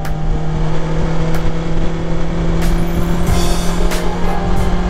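A 2021 BMW S 1000 XR motorcycle pulling away on a test ride, its engine a loud, steady close-up drone with wind rush and no talk.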